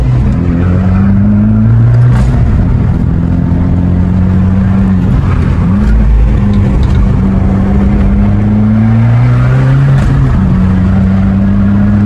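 Loud engine of a stock Abarth Competizione revving and rising through gears, exhaust note climbing and dropping repeatedly over steady road noise.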